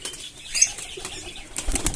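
Pigeons beat their wings as they lift off in a dusty spot, giving a quick flurry of flapping that swells near the end of the brief burst, with no talk.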